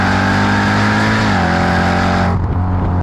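Jeep Trackhawk SUV tuned to about 805 wheel horsepower with bolt-ons and extra cooling: a loud, close, sustained engine drone whose pitch steps down partway through, then cuts off sharply near the end.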